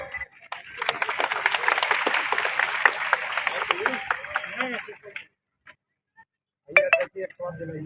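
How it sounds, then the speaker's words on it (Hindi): Crowd at a public rally for a Suhaldev Rajbhar anniversary gathering claps for about five seconds, a dense patter that then drops to near silence before a brief clatter. "इनके नाम पे एक बार आप लोग जोरदार ताली बजा के स्वागत करें।"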